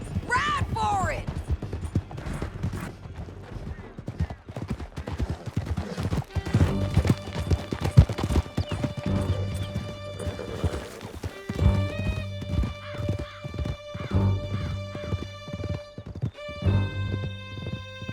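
Horses gallop in the video game Red Dead Redemption 2, a steady, dense clip-clop of hooves with whinnies, bursts of gunfire and a shouted voice over game music.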